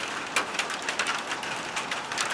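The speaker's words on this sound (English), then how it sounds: "Yep, raining." Steady rain falling on a boat in a summer storm, a dense even hiss with scattered sharper drops striking nearby surfaces. No voices are heard.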